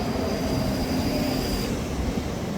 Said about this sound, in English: And departing out now is the 1442 ScotRail service from